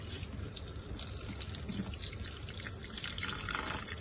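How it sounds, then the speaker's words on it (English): Steady running warm water from a tap splashes continuously over meat being rinsed, a close, even rush with no talking. "Now we'll run it down, clean it under warming water"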